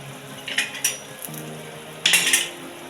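A spoon stirring finely grated jaggery as it melts into ghee in a metal pot, giving a few sharp clinks and scrapes against the pot over a soft low sizzle, close by with no talk.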